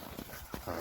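Hooves of a horse offered for sale in Kyrgyzstan clop on the ground as it turns, a few uneven muffled thuds close by with no talk over them.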